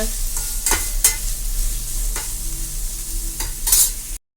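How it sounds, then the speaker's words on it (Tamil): Onion sautéing in a pan with ginger, garlic and green chilli for carrot biryani, a steady close sizzle broken by several sharp scraping stirs of a spoon against the pan, with no talking. "இப்போ வெங்காயம் போடணும் இதை அப்படியே கொஞ்சம் நேரம் வதக்கணுங்க"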